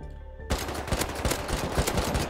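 Rapid automatic AK rifle fire in the survival game Rust bursts in after a quiet half second, dense repeated shots running loud and close to the end.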